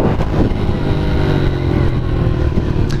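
A 2015 Honda CRF 110 motorcycle cruising in fourth gear, its engine a loud, close, steady drone that holds throughout without any talk.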